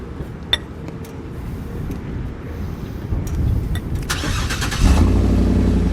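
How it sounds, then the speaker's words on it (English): A parked car's engine cranks and catches near the end, rising from a quiet background rumble into a louder, steady running drone close by. "So Steven, let me go start the car."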